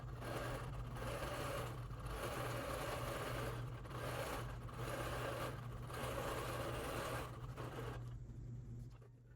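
A longarm quilting machine stitches a vine pattern with purple thread in a quilt's inner border, a steady mechanical whirring hum in repeated bursts with short pauses, ending in quiet.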